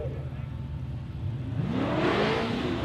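A drag racing car, a radial-tire street class entry, launches down the strip at Warwick Dragway, its engine note rising in a quick revving sweep from a low rumble, moderately distant, with a commentator's voice underneath.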